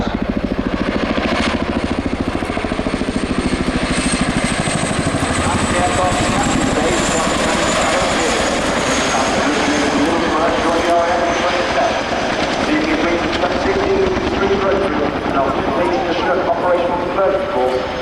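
A large Chinook twin-rotor helicopter roars steadily nearby during an air show display at RIAT 2025, its rapid rotor thump constant and loud throughout with no break.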